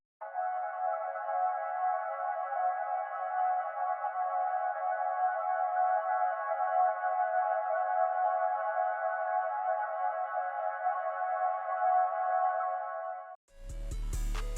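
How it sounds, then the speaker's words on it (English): An atmospheric vocal sample from Splice, added to an energetic trap beat in FL Studio, holds a steady airy tone for about thirteen seconds, then cuts off abruptly as a deep bass hit enters at the end. "I found this vocal sample, sort of like atmosphere thing from Splice, and I added that"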